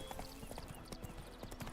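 Roach, a horse in The Witcher 3, clip-clops along in a quick series of hoof strikes, quiet and close, with a faint background bed beneath them.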